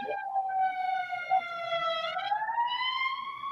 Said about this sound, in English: Oh, I thought that ambulance was over here, in my house.